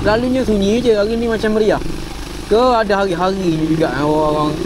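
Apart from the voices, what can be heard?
No distinct noise like a dog, phone or traffic.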